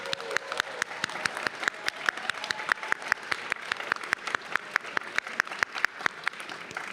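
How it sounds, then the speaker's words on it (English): Audience applause fills a graduate hooding ceremony, a dense sustained round of clapping with sharp individual claps standing out, steady and fairly loud throughout. "Let's give them one more round of applause."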